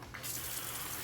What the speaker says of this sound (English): And rinse with cold water